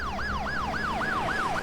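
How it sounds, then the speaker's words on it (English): An ambulance siren from a TV show wails in a rapid repeating rise-and-fall pattern, about six cycles, clear and moderately loud over faint background hum. "Oh, an ambulance."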